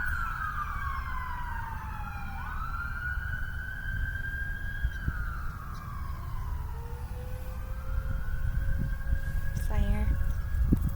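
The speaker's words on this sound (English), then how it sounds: "There's never sirens out here." Several emergency sirens wail and sweep in rising and falling tones across a tiny town, layered over one another at moderate distance, steady throughout with a low rumble of traffic underneath.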